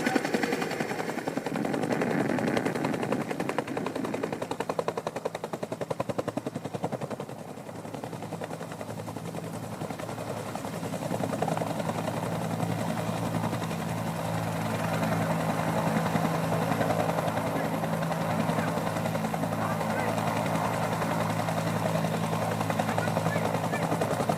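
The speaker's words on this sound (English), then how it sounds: "This helicopter can deploy up to 13 fully equipped troops into operational area with unparalleled precision and efficiency." A Nigerian Army troop-carrying helicopter, able to carry 13 equipped soldiers, flies over a celebration display with a continuous loud rotor roar and engine drone that dips briefly and then swells again, while an announcer talks.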